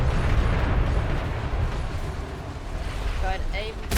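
A first-rate sailing warship's cannon volley in a roleplay video game: a dense, sustained roar of broadside fire rumbling loudly throughout, with faint voices near the end.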